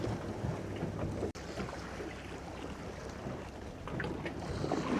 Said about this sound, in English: A little bit of wind blowing